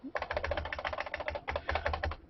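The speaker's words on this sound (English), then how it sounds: "I'm an addict for this old Model M IBM keyboard." An old IBM Model M keyboard clatters under quick typing, with two dense bursts of crisp, springy keystrokes separated by a brief pause, close and moderately quiet.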